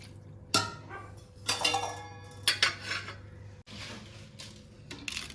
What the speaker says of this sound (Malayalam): ഇനി നമുക്ക് കുറച്ച് കരിക്കിൻ്റെ വെള്ളം ഒഴിച്ച് കൊടുക്കാം.